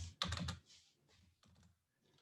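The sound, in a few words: typing notes on a computer keyboard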